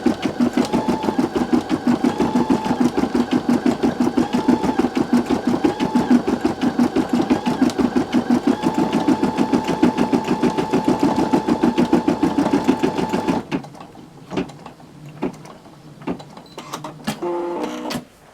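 An embroidery machine stitches an in-the-hoop Christmas ornament with a loud, steady, rapid mechanical chatter that runs continuously, then stops abruptly, leaving a few faint clicks and handling sounds.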